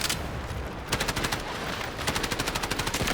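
Rapid automatic gunfire rings out in the Delta Force video game. It comes as dense bursts of loud, evenly spaced shots with a brief pause before the firing resumes in a steady rhythm.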